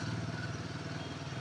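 A motorcycle with a wide handlebar rides slowly through narrow lanes in Kashi, its engine putting out a steady close chugging hum with some clatter.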